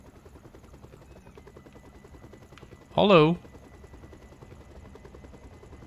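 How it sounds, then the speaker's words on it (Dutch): Helicopter flying overhead in Train Simulator 2016, a faint steady rotor whir under train rumble, briefly interrupted by a short spoken greeting. "En hierboven vliegt een helikopter."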